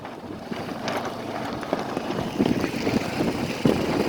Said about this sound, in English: I don't like that much wind